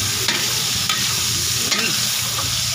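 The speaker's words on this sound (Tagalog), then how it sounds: "magsasangkot muna tayo ng karne. Dahil magluluto tayo ng pansit." Meat sautéing and stirred in a pan for pancit, a steady close sizzle with a few scraping stirs of the utensil across the pan.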